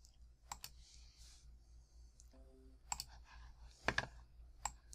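Computer mouse clicks while saving a rotated picture in Windows 10, several sharp, quiet clicks spread out over a few seconds, heard close in a quiet room with faint handling noises between them and no speech.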